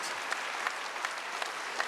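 A church congregation applauds at a Wednesday worship service, giving a short burst of steady clapping with a few sharper claps standing out.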